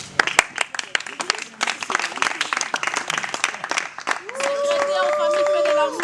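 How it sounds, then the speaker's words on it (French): Audience applause for an actor at a birthday celebration, scattered claps and crowd noise under voices, ending with a sustained shouted cheer or song-like voice toward the end. "Si nous pouvons l'applaudir, bien sûr."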